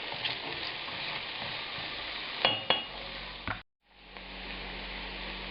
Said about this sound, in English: Now I'm adding the 120 grams of onion to it, and we'll begin sauteing these.